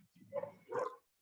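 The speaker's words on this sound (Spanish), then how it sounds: "es que mis perros enloquecen." Dogs bark in two quick, close yaps a moment apart, fairly loud against an otherwise quiet room.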